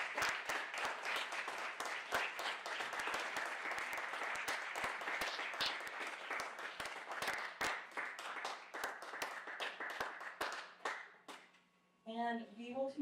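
An audience claps through a long, dense round of applause for artists at an art and culture symposium, the clapping thinning near the end before a voice starts speaking.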